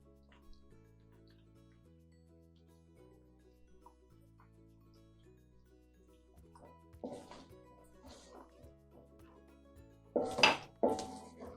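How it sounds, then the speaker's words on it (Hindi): Spices go into fried onion and ginger-garlic paste in a pan for red lobia curry, heard as quiet metal clinks and scrapes of a spoon on the pan, growing to louder clatters near the end. "तो हम यहाँ पे तमाम मसाले ऐड कर देंगे जो कि मैंने आपसे शेयर किए थे।"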